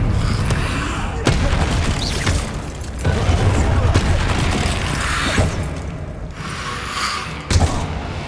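Spell-casting effects from Hogwarts Legacy, a Harry Potter video game, as the disarming charm and a fire spell are cast in turn: dense, loud booming bursts and crackling blasts over a constant rumbling game soundscape, with sharp impacts recurring throughout.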